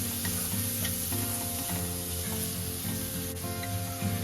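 Boiled potatoes being stirred into a hot, sizzling pan while preparing a breadless sandwich; a steady, close frying hiss runs throughout with light stirring, and a soft melodic background sits underneath.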